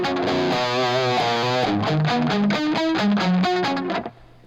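Electric guitar played through an Echoplex tape echo with the mix turned all the way down, a steady run of distorted notes whose repeats blur together before cutting off near the end.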